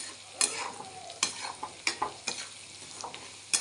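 Turmeric frying in a pan while being stirred: a soft steady sizzle broken by about nine sharp scraping clicks from the spoon at an uneven pace, close and quiet, with no voices.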